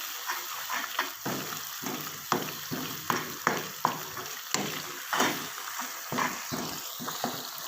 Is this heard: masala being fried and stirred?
yes